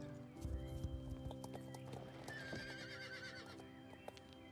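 In the video game Star Stable, the horse Snowdreamer clip-clops with a few distinct hoof strikes and then gives a loud, wavering whinny, set against a steady background hum of game ambience.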